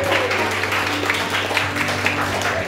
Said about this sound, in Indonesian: Kalau pede tepuk tangan dong